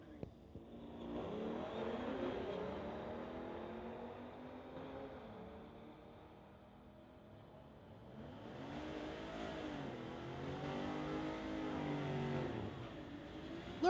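Two Audi cars race down a drag strip at a street-legal event, engines droning and rising in pitch as they accelerate, fading briefly, then a second surge of revving builds again, heard from trackside with a distant announcer under the noise.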